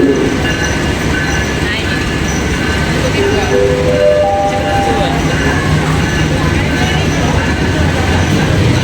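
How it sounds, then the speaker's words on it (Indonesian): The Arjuna Express train rumbles steadily close by arriving at a station platform in Indonesia, with squealing, tonal wheel and brake sounds rising and falling, under a constant loud background din. "Sudah masuk jalur 6 kereta api Arjuna Express tujuan stasiun Malang."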